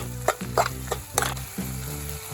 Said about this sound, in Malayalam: അപ്പോൾ ലോ ഫ്ലെയിമിലിട്ട് നമുക്ക് നല്ലോണം ഒന്ന് ഇളക്കി ചേർക്കാം.